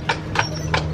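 Horse hooves clop in a steady rhythm during a ride at a resort, three crisp, evenly spaced strikes heard close and loud over a low, constant background hum.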